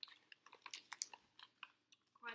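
Quiet crunching and chewing up close, a string of irregular crisp bites and munches with brief pauses between them.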